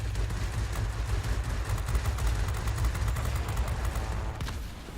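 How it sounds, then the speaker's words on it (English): Sustained rapid automatic gunfire from an aircraft's machine guns in the World of Warplanes flight game, a dense continuous rattling burst that runs loud through the whole stretch with no talking. "He's firing at my friend."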